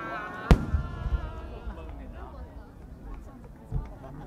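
At the Omagari fireworks display in Akita, a sharp, loud shell burst opens, followed by crackling and rumbling echoes, then a second, softer boom, with crowd murmur and voices in the background.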